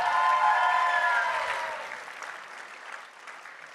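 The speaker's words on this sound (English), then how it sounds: "Another round of applause for this man." An audience at a Comic Con main stage applauds and cheers, loud at first with whooping voices, then gradually fading to lighter clapping.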